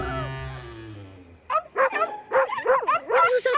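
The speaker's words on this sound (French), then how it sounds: "Vous entendez? Ce sont les autres petits chiens." Several small cartoon dogs yap and bark in quick, high-pitched bursts in the animated series Strawberry Shortcake, following a drawn-out voice at the start.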